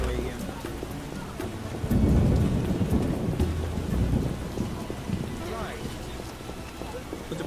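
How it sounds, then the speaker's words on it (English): Rain and rolling thunder from the Witcher video game, a steady wash of rainfall with a heavier thunder rumble swelling near the start and continuing loudly under occasional talk. "I get sad when it rains. Some rain."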